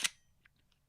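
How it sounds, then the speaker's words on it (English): A Pentax camera shutter fires once: a single sharp, close mechanical snap at the start, followed by faint small clicks. "I was going to see if I do the shutter sound on this Pentax."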